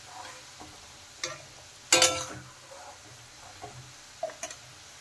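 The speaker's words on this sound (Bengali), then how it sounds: "নারকেল আর আলু কিন্তু ভালোভাবে ভাজা হয়ে গেছে, আমি এখন তুলে নেব।" Coconut pieces and potatoes being lifted out of hot frying oil in a home kitchen, with a faint sizzle under scattered metallic clinks and scrapes of a utensil, one louder clatter in the middle.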